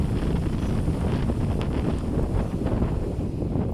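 Dry, cool wind roars steadily against the microphone in a dense, low rumble, outdoors where an elephant is kept, with no voices, constant throughout.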